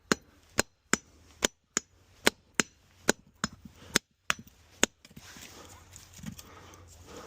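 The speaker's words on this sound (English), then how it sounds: "Let's see if we can crack these weld points here." During scrapping in a yard, a hammer strikes metal to crack weld points, making about a dozen sharp, evenly spaced clanging blows. The blows give way to softer rattling and shuffling handling noise.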